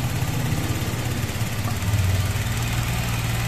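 A Honda Vario 125 scooter engine with a fault that makes it stall, sputter and lag on throttle idles close by in a steady, slightly uneven putter, with no one talking.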